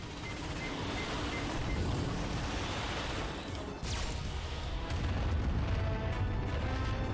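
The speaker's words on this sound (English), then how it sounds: "Star missile impact detected." A star missile strikes a ship in a space battle: a loud, sustained rumbling blast with a sharp burst near the middle, continuous and dense throughout, heard without speech.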